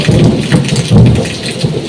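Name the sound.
heavy rain with thunder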